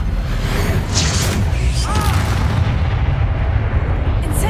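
An Incendio fire spell in a Hogwarts video game sets off a loud, roaring whoosh of flames close by, a dense rumbling blast that sustains before thinning toward the end.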